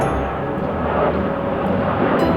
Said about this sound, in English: every 2 minutes these big aircrafts come flying past